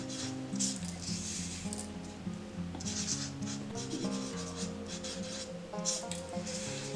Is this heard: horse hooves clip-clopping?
no